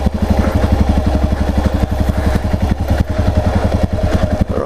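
Yamaha XT 660R single-cylinder motorcycle, a heavy 200 kilo bike, thumping hard up a steep single-track hillclimb, its loud, rapid, steady exhaust pulses close up and running continuously throughout.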